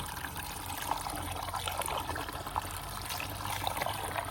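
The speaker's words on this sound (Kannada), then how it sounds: "ಇಲ್ಲಿಂದ ನೀರು ಹೋಗೋ ಸೌಂಡ್ ನೋಡಿ" Water of a small village stream flows and trickles nearby with a steady, bubbling babble throughout, loud and close, with no voices.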